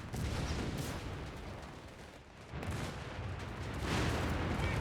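Artillery fire rumbles throughout a battle in the video game Company of Heroes 3, with dense, continuous booming and crackling that swells and fades in waves and has no clear separate shots, with no talking.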